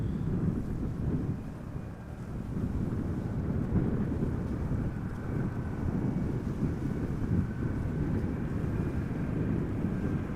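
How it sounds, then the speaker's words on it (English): Wind gusts buffet an outdoor microphone at Amsterdam Schiphol Airport, a steady low rumbling roar that swells and eases throughout, fairly faint, with no voices. "Seems that the wind is picking up."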